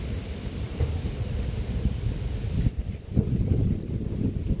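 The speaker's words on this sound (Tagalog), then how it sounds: "Umuugong yung lakas ng hangin." Steady, heavy wind roars and rumbles continuously through trees on a farm, with gusty low buffeting and no voices.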